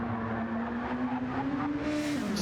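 Sustained whine of a 2008 Lexus race car engine in Gran Turismo 7 during an endurance race, held at a steady high pitch and dipping slightly near the end, loud with no talk.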